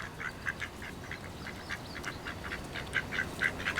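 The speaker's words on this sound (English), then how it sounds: "these are all male ducks" Several male ducks quacking outdoors, a busy string of short nasal quacks repeating in uneven bursts, fairly close and clear over a soft background.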